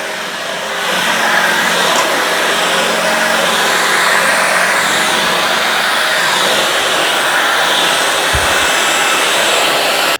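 A Shark BU3521 cordless stick vacuum runs steadily on a hardwood floor, giving a loud, continuous high-pitched motor whine with airy suction hiss, close to the microphone and without a break.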